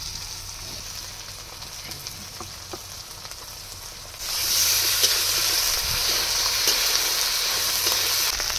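Crushed garlic, ginger paste and cumin paste hit hot oil in a pan, bursting into a loud, steady sizzle halfway through after a quieter low frying hiss, with occasional stirring clicks.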